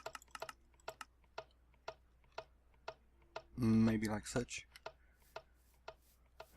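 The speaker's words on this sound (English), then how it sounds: "it makes an annoying ticking sound" A machine in the modded Minecraft game Tekkit ticks in a steady, evenly spaced rhythm, soft and close. Its clicks run through the whole stretch, and a voice briefly speaks over them.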